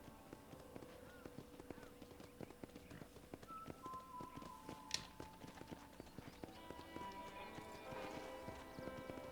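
Horse hooves clip-clop in a steady, quick rhythm in the video game Red Dead Redemption (2010, Xbox 360), with soft tonal game-like sounds and a brief sharp chime partway through.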